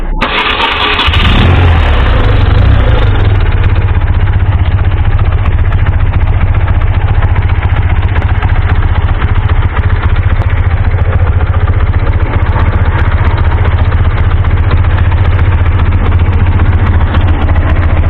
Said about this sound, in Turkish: Emniyetini açtıktan sonra buradan marş yaparak motorumuzu çalıştırıyoruz.